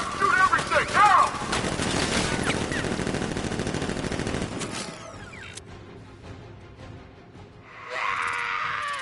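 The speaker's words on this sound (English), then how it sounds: "Open fire! Shoot everything!" Guards fire weapons in a Batman video game, with a dense burst of rapid gunfire and mechanical clatter under shouted game dialogue, then a quieter stretch of scattered noises and a final swell of hiss.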